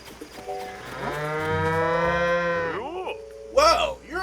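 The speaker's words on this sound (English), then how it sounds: "Just sitting there looking at the cow." A cow at Hateno pasture in a Zelda game lets out one long, drawn-out moo that wavers and falls off at the end, followed by a couple of brief, brighter in-game sound effects.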